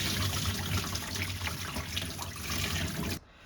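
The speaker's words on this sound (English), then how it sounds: "Get your boiling water from your kettle and do the easy way. Just cover your noodles." Boiling water from a kettle is poured over udon noodles, a dense close splashing rush that runs steadily for about three seconds and then stops abruptly into quiet.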